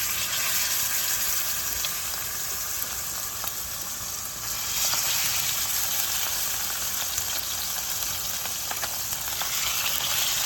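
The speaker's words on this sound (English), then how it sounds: "I'm going to start by searing the red snapper first, skin side down." Red snapper sears skin side down in hot oil in a pan, giving a loud, steady crackling sizzle that fills the whole stretch without a break. Nobody speaks.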